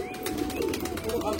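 Pigeons coo softly at a loft where birds are being shown off, a steady murmur of low calls with faint chirps, and a person talks over them throughout.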